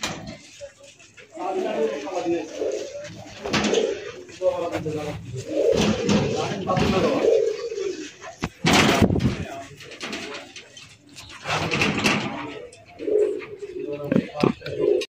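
Red spangle fancy pigeons coo in low rounded bursts through much of the stretch, mixed with occasional handling clatter, while someone talks nearby over them.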